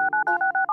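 Rapid electronic phone keypad tones dialing 911 in Roblox, a quick string of about seven clean beeps in even rhythm, each a two-pitched tone, heard alone.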